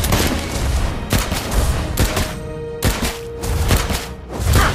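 Rapid bursts of video game gunfire from Captain of the Reefs, several loud volleys in quick succession with dense booming shots filling the whole clip and no talk over them.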